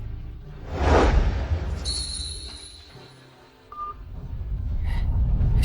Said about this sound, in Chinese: 等我接通了电话